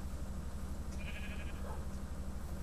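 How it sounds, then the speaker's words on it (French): A sheep in the Minecraft video game gives a short bleat over a steady loud background hum, the call faint and brief in the middle of the clip, with no talk. "Du mouton."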